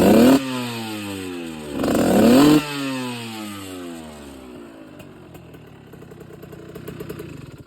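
A 70cc motorcycle engine revs hard in two sharp bursts, then drops into a wavering, sputtering idle as it pulls away, loud and close with no talking.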